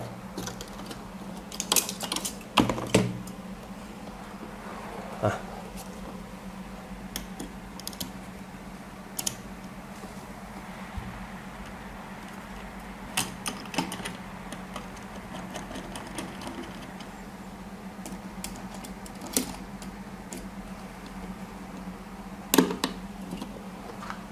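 CPU cooler mounting screws on an AMD AM4/AM5 board being tightened diagonally for a Deepcool AK400 air cooler, giving soft intermittent clicks and ticks over a steady low hum, with louder clusters near the start and end.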